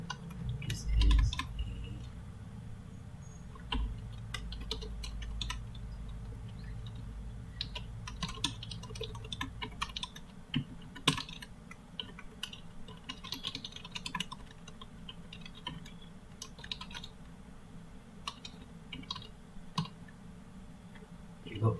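Keys clatter steadily on a computer keyboard while text is typed into the nano editor, quick irregular clicks over a low background hum, with brief speech near the start.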